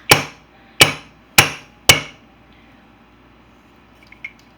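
Four sharp, evenly spaced whacks from an old wooden rolling pin pounding down hard, each ringing out briefly and then fading, followed by a couple of faint small taps.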